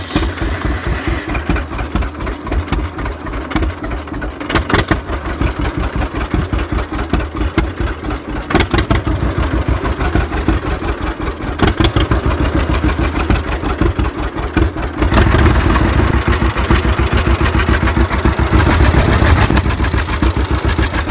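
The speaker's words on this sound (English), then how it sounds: "so let's fire this A up." A 1952 John Deere A tractor engine fires up and settles into a loud, steady idle, its two-cylinder putt-putt beating evenly and growing fuller and louder near the end, with no talk.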